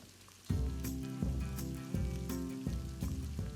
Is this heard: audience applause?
no